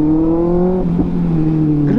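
A 2024 Kawasaki ZX-6R inline-four motorcycle fitted with an aftermarket AR Shorty exhaust revs loud and close, its high-pitched engine note holding steady, dipping briefly, then rising again.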